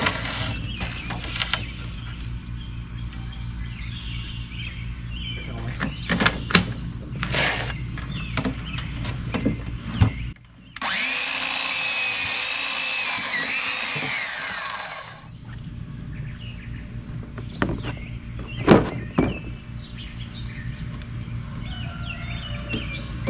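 A power tool cuts PVC board in a workshop with one loud buzzing pass of about five seconds. Scattered knocks and handling clatter come before and after it, and faint bird chirps can be heard in the background.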